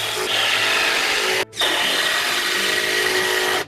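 A power driver sinks 14 gauge timber screws through fascia into roof rafters, giving two loud whirring, grinding runs separated by a brief pause, close and steady.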